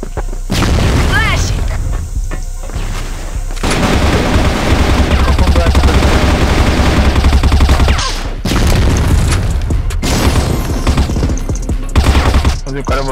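Grenade blasts and rapid gunfire from the CrossFire first-person shooter, loud and dense, with repeated bursts and booms, brief gaps near four and eight seconds, and voices under the battle noise.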